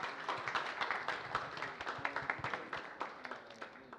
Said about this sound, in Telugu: గట్టిగా ఒక్కసారి శశి గారి కోసం క్లాప్స్ అండి.